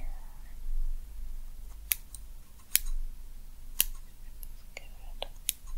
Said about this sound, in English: So then I'm gonna cut it right here